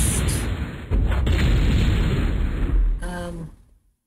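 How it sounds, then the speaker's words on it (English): An air gun weapon fires in the MechQuest video game, giving a loud booming blast that holds for a few seconds, then a second burst that rings out and fades to silence. "Air gun, of course."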